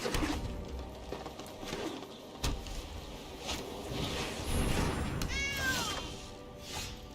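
A cat card's meow from Magic: The Gathering Arena, a short rising-falling mew near the end, over soft game chimes and brief clicks at moderate volume.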